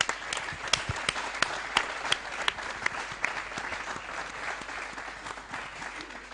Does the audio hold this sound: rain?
no